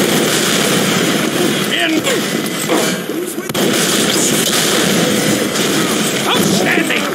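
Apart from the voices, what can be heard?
gunfire and explosions in Team Fortress 2 video game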